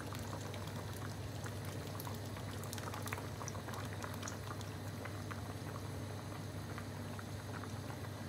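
Milk poured into a pot of boiling corned beef sopas with macaroni, a steady bubbling simmer with light liquid splashes continuing throughout, close and even, with no talking.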